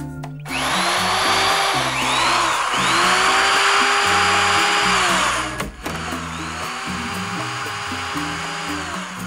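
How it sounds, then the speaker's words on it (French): A power drill whines steadily at close range, its pitch rising and falling as the motor runs, pauses briefly, then spins up again, with no talking. "Perceuse."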